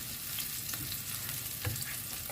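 Onions sauté quietly in a pan before chicken breast is added for chicken steak, giving a low, even sizzle with faint stirring taps throughout.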